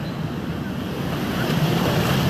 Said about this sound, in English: these little waves push you around a little bit pretty good